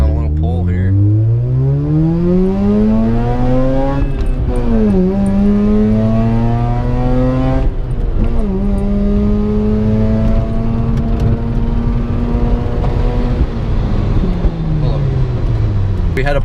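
A car fitted with a BHR midpipe pulls hard, its engine note climbing through rising sweeps, dipping at each gear shift and climbing again, loud and close from inside the cabin.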